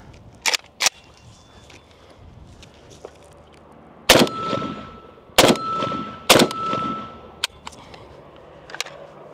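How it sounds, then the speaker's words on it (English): Gunshots from a PSA Krink rifle, a few sharp, loud reports spread across the stretch, two quick ones early and then three heavy shots close together with ringing tails, plus faint clanks between. "All right, couple more shots."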